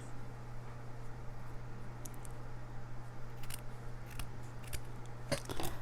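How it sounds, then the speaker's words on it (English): Scissors cutting fabric for a handmade needle book, a few sparse, close snips over a faint steady hum in a quiet room. "So now probably I will just go ahead and cut that."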